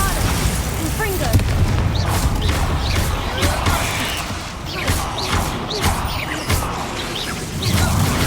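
Bombarda blasting spell explosions in Hogwarts Legacy come as repeated loud booms and crashing bursts amid dense game effects and rumble, with spell incantations and speech heard over them.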